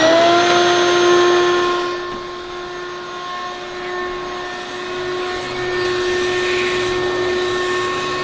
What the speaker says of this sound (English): so we're going to vacuum it out.